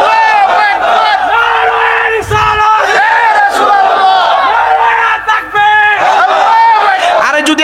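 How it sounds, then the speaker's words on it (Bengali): A large crowd at a Bangladeshi Islamic religious gathering shouts the takbir, Allahu Akbar, in loud unison, chanting in repeated rising cries that follow a leader's call and fill the space. "এবার দো তাকবীর।"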